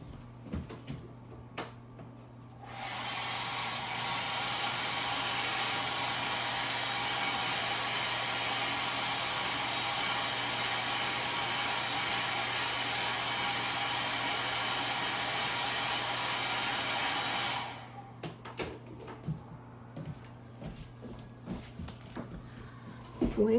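A hair dryer blows on an ink and watercolor painting of a daffodil, a steady loud whoosh running for about fifteen seconds after a quiet start, then cutting off to leave faint room noise.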